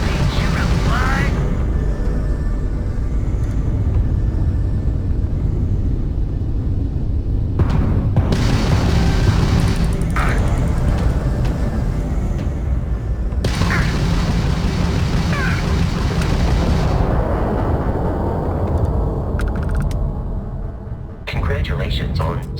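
Starship combat in the video game Starfield, with deep booming explosions and a continuous rumble of fighting, punctuated by bursts and dropouts, while voices speak over the action.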